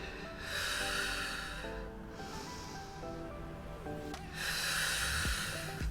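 Two long, breathy exhales during a Pilates arm raise on a mat, close and audible over steady low background music, with a short pause between them.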